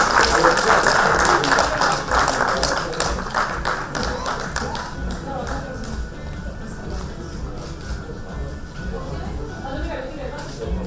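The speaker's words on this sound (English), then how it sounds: "A big round of applause for" Loud audience applause at an awards event in Bangalore, dense clapping that starts strong and gradually thins and fades over about ten seconds, with voices mixed in underneath.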